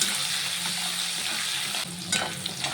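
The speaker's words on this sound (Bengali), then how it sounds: "মাছটাকে হালকা করে ভেজে নেব।" Prawns frying in hot oil with turmeric and salt, a dense close sizzle with stirring that drops in level partway through, then crackles on with occasional spatula scrapes.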